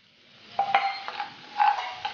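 Sichuan peppercorns and dried chili segments stir-fried in hot rapeseed oil with ginger and garlic in a wok: close metallic spatula scrapes and clinks in quick bursts over a soft, steady sizzle.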